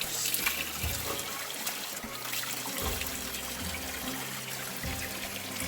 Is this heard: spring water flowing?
yes